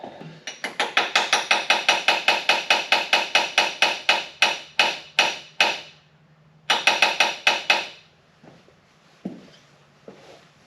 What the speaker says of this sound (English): I gotta whack that carburetor a little bit.